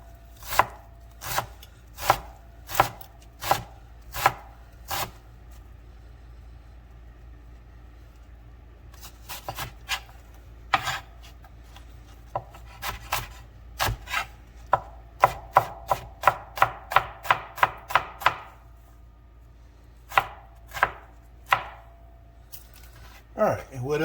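Knife chopping and dicing an onion on a cutting board for a soul food meal, sharp close knocks in steady runs, a quick rapid flurry in the middle, then scattered single cuts after a pause.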